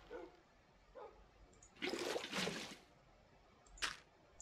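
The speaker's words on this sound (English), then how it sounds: "Right here, I'm gonna move that water" Water is placed and starts flowing in Minecraft, making a rushing splash that swells for about a second, followed later by a short second gush, with quiet clicks in between.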